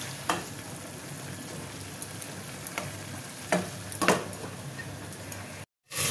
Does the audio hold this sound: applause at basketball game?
no